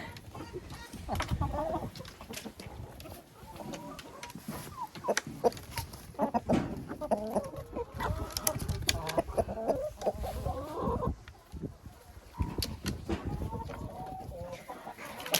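Hens and a rooster clucking busily as they are fed in a chicken coop, a dense, continuous chatter of close clucks with scattered pecking and rustling, while people talk now and then over it.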